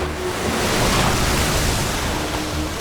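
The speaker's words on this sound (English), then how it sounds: "The next second, a massive wave was unleashed." Ocean wave surging around the ice as orcas drive it, a broad, continuous roar of rushing water and surf, loud and steady for a few seconds with no voices.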